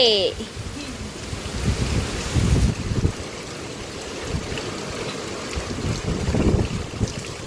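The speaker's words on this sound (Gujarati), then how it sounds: "પવન ને એવું બધું છે" Gusty wind during rainfall rushes continuously against the microphone, a broad, close roar with a voice briefly heard at the start.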